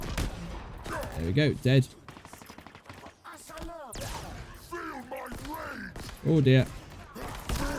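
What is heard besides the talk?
Mangler pistol gunfire in Halo Infinite video game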